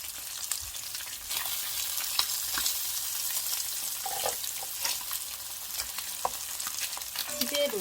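Slices of Spam fry in oil in a pan with a steady, loud sizzle that runs through the whole stretch, with occasional stirs and scrapes and no talking.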